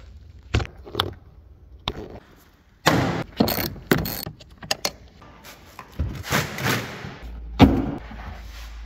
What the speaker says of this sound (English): Now I'm gonna pop these little tabs off and pull these seats out of here.